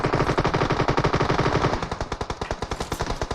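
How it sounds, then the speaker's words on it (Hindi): Heavy automatic gunfire in a shooter video game, a rapid, loud, continuous stream of shots in a fast even rhythm, with no talking over it. "बहुत ज्यादा गोली चल रहा है उधर पे, मत जाइए।"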